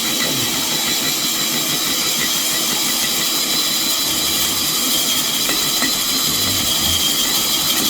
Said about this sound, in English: Now I put a little larger bit on.